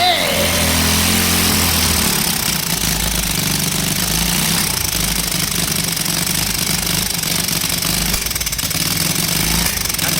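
Lifan 125cc engine running smoothly without sputtering, a loud, buzzing rattle with a steady low throb that carries on throughout, with voices talking over it.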